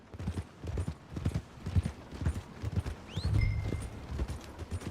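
Horse hooves clip-clop steadily on the ground in the video game Red Dead Redemption 2, a regular moderately close rhythm with brief soft vocal sounds over it.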